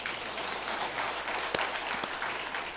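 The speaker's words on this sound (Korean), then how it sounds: "박수 한번 쳐줘요." Church congregation applauding, a steady wash of many hands clapping at even loudness with a couple of sharper individual claps standing out.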